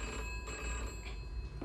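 A telephone rings indoors in a home scene from a drama, its bell trilling steadily and fairly clearly over a low background hum, with no one speaking.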